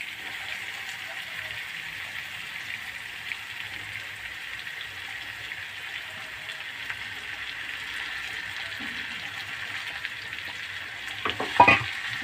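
Flattened rice, atukulu, sizzles steadily in a hot pan with a soft continuous frying hiss, and a few clinks and scrapes of stirring come near the end.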